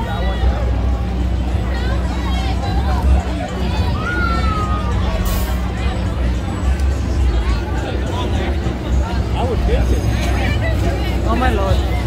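A festival crowd at the Oyster Bay Festival on Long Island, New York, makes a steady, loud outdoor babble of many voices mixed with passing vehicle rumble, with nearby talk on top.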